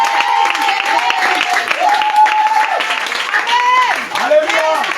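A congregation claps in a church during an evening worship service held for a worldwide fast, a steady wash of applause running throughout with loud voices singing and calling out over it.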